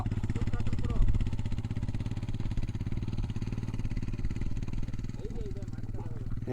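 An off-road motorcycle on a hill trail holds a steady, loud engine drone at full throttle throughout, with a brief surge early on. People talk over the engine.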